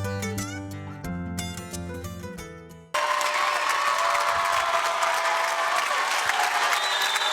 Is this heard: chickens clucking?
no